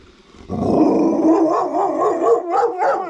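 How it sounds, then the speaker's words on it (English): A dog gives a drawn-out, howling woof on command, wavering up and down in pitch, then a few shorter yips and barks, loud and close with no talk. "hey, can you give me a little woof?"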